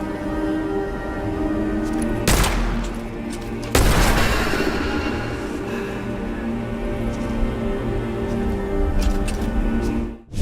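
Gunfire in the dark fantasy roguelike shooter Witchfire, two loud sharp blasts over a droning game soundtrack, followed by fainter scattered hits and rumble.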